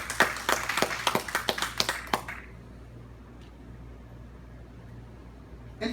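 A church congregation bursts into a quick round of sharp, rhythmic handclaps for about two seconds, then the room falls almost silent.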